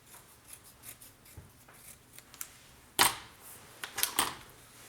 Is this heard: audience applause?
no